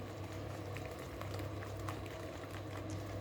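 A continuous sizzling bubble of pakoras frying in hot oil in a kadhai, steady and close, with faint crackles and no voices.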